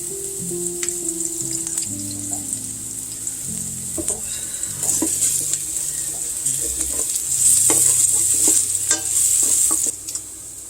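Eggplant fries in olive oil while being stirred, a steady sizzle broken by scraping strokes and little clacks of the utensil, swelling louder near the end before easing off.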